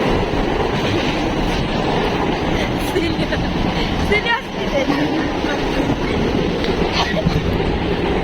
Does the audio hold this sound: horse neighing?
no